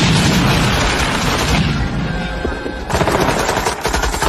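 Loud, dense automatic gunfire from a Vietnam war film, with full metal jacket rounds fired in continuous rapid bursts and a brief lull before another sustained volley.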